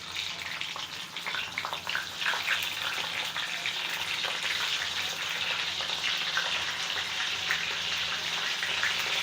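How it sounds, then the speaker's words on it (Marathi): Brinjals (eggplant) frying in hot oil for Gujarati undhiyu give a steady, dense sizzle that holds at an even loudness for the whole stretch, with no voices. "वांगीसुद्धा आपल्याला तळून घ्यायची आहे."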